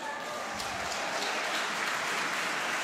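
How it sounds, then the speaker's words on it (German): An arena crowd at a sport acrobatics final in Taucha applauds: dense, sustained clapping that swells slightly over a few seconds. "Hier kommt Beifall"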